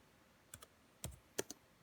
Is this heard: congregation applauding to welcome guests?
no